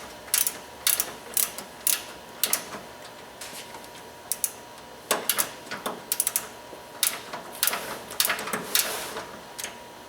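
A ratchet clicks in repeated short bursts while removing the lower bolt on a 2011 Chevy Silverado suspension, with crisp close ticks and brief pauses between strokes.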